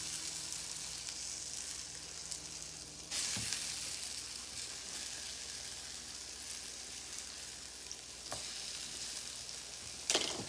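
Black bean burgers frying in a pan, a soft steady sizzle throughout, with a couple of brief louder bursts as the patties shift.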